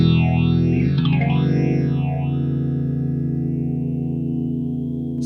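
A Behringer Bi-Phase dual stereo phaser colours a clean Fender Mexican Telecaster on its middle pickup, one sustained chord sweeping with deep, swirling phase notches that fade as the note rings out.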